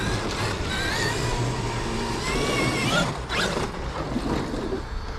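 A Traxxas XRT RC car driving around a skatepark at night, its electric motor whining and shifting pitch steadily over rattling, scraping wheels and chassis creaks, fairly close and continuous with no talk.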